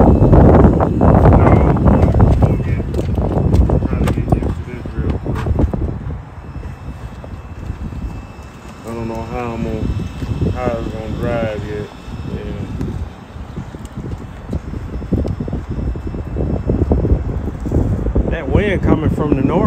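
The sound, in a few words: wind blowing from the north at RC track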